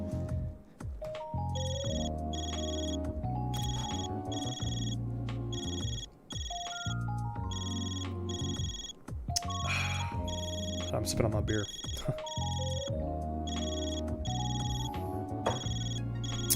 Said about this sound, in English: Oh, your phone's ringing too much,